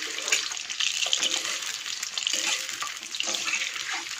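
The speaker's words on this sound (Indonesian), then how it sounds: "kita goreng telurnya sampai kekuningan ya" Eggs frying in a pan, a steady close sizzle and crackle of hot oil with occasional scraping stirs, continuous for the whole stretch with no talking.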